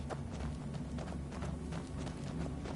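Horse hooves clop in a quick, steady rhythm in the video game Skyrim, a continuous run of fairly quiet, even beats with no pauses.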